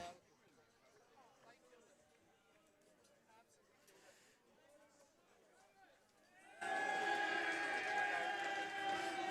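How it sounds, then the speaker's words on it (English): Crowd noise at a lawn bowls match between Cronulla and Bondi: low distant chatter gives way, about two-thirds through, to a sudden loud and sustained burst of cheering. "Lots of cheering. Crowds going crazy."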